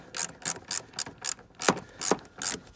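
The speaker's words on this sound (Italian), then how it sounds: "si mette la chiave e in teoria dovremo poter svitare con rabbia, con l'opportuna rabbia," Ratchet wrench loosening a 17 mm bolt inside a Fiat Panda 141: about nine quick, close clicking ratchet strokes in a steady rhythm, crisp and fairly quiet, with no talking.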